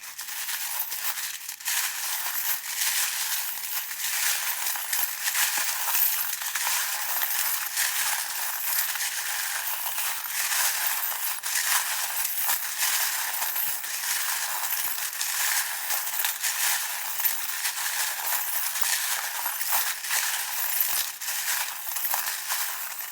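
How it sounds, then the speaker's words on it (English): Steady, dense jingling and clinking of small metal tarot charms being shuffled, continuous and fairly loud throughout, with no talking. "the sound of the charms being shuffled"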